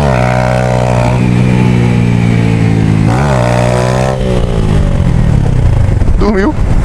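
A motorcycle with a full fuel tank revs hard during a wheelie, its loud, close engine climbing and dropping in pitch through several throttle bursts before easing off near the end.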